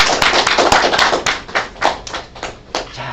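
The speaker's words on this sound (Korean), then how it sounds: "여기서 박수 한번 쳐주세요." An audience applauds in a lecture setting, a loud burst of many hands clapping close by that gradually thins into scattered claps, with no talk over it.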